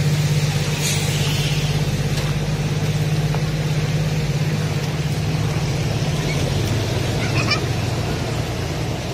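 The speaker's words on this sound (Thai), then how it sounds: "รถใหญ่10ล้อ ลุยได้ครับ" A large 10-wheel truck rumbles loudly and continuously with a deep engine drone as it wades through a flooded creek, with brief higher noises on top.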